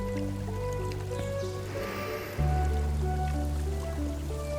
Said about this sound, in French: Le ruisseau chante toujours doucement.